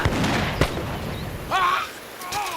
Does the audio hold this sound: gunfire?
yes